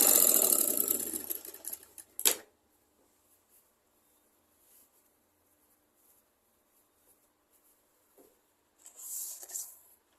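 A sewing machine stitches a petticoat in a short burst of rapid mechanical whirring at the start, then stops; brief clicks and a faint later whir follow in near silence.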